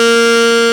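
A saxophone note started with the tongue sounds as one short, bright, sustained tone, loud and alone.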